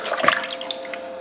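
Water splashes and trickles onto clay spinning on a pottery wheel, close and fairly quiet, with a faint steady hum from the wheel beneath the wet dribbling.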